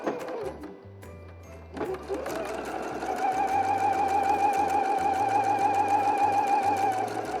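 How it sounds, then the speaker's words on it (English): A sewing machine stitches a dart on a slip dress from the bottom up toward the tip, starting after a brief pause and then running in a steady, close, continuous whir that holds to the end. "we are gonna start sewing at the bottom of the dart"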